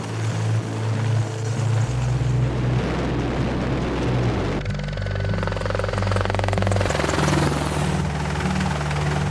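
An AH-64 Apache military helicopter thrums steadily with a loud, continuous rotor and turbine roar that shifts in tone partway through, close and dominant with no voices.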